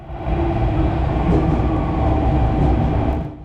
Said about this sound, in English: Here comes our train, pulling in now.